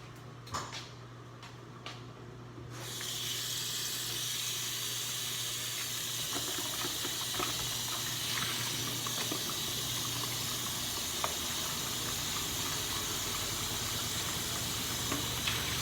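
Tap water running into a kitchen sink while raw chicken is washed for soup, starting after a few quiet seconds of faint handling noises and then pouring steadily with a hissing splash.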